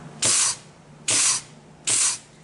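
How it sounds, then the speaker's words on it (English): Three short bursts of hissing compressed air from an air gun blown into a 4T65E transmission's second clutch drum, leaking, about a second apart, each a loud rush that stops abruptly, over a faint steady background hum. "Now, you will hear some air from this gun, which is leaking here."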